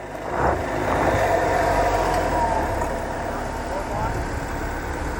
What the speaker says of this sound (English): Suddenly the gas engine kicks in.